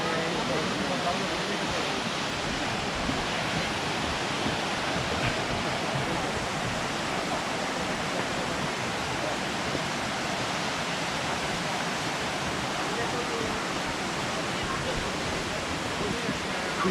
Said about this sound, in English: Said it's 90-foot falls.